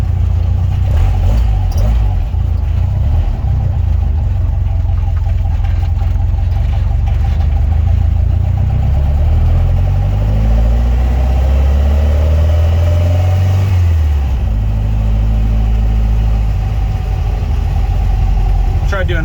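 A VW Volksrod engine fitted with Weber IDF carburetors runs steadily at around 1700 RPM, a loud continuous rumble with its pitch rising and falling in the middle as it revs, while someone talks over it.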